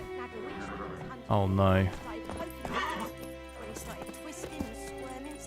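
A horse in The Witcher 3 gives one loud, close whinny, then hooves clip-clop beneath game music while someone speaks briefly.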